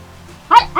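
A dog in a mountain village gives a sharp bark followed by a second, close and loud, after a quiet moment.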